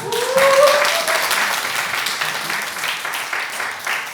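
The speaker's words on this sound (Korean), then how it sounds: "다 같이 하나님께 감사의 박수를 올려드리겠습니다." A church congregation at a festival service gives a moderate round of applause, filling the hall with a steady wash of clapping that tapers slowly, with a brief voice at the start.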